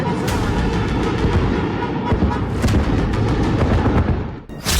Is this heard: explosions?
yes